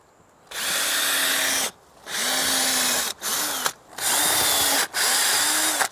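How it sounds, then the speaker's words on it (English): A power drill bores holes into the wooden side of a raised garden planter bed, four or five close, loud bursts of whining motor separated by brief pauses. "we're just going down this raised planter bed and drilling some holes in the side of it"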